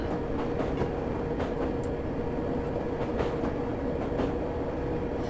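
A London Underground D78 Stock train running at full power in Train Simulator 2018, a steady rumbling roar of motor and wheels on track with recurring rail clicks and clatters, continuous and close, with no voices.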